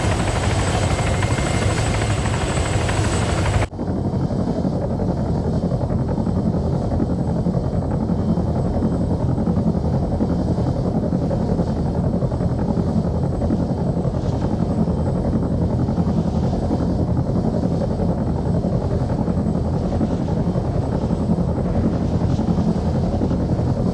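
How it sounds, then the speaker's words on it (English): A military helicopter in the video game Arma 3 drones loudly and continuously, its steady rotor and turbine roar filling the whole stretch close by, with a brief change in tone near the start and no talk. "be advised we've got a helicopter coming in with 2 gunners on the side"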